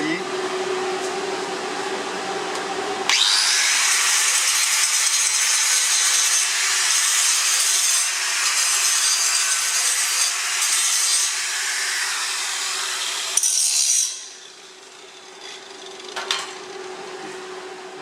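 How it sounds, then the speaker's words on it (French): An angle grinder grinds down a MAG butt weld on a steel cornice to clean it, a loud steady high whine running for about ten seconds before cutting off and winding down. "On va mettre un petit coup de meulage."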